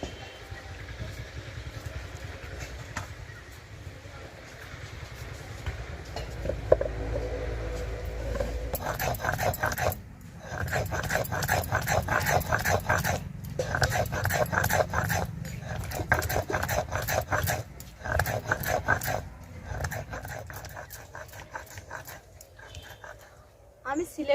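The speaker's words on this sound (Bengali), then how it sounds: "এবার আমি সিলে বেটে নেব।" Tomatoes are ground by hand on a stone slab (sil-bata) for a homemade tomato sauce. The scraping strokes are steady and rhythmic and come up loud partway through, with short pauses between runs.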